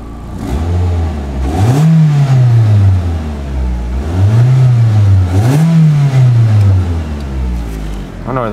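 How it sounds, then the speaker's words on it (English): A 2007 Ford Focus SE hatchback engine is revved three times, each rev rising sharply and falling back to a steady idle, heard up close. "Let's give her a couple revs."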